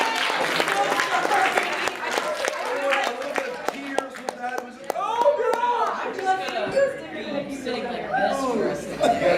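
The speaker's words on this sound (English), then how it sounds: "Everyone applause." Convention panel audience clapping in a scattered, moderately loud burst mixed with chatter and chuckles, with voices talking over the applause throughout.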